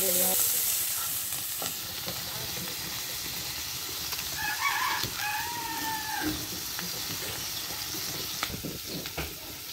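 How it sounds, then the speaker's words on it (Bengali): Onion and chili frying in a pan, a steady close sizzle and crackle running throughout, with a rooster crowing faintly in the background partway through. "এখানে হলো পেঁয়াজ মরিচ ভাজা"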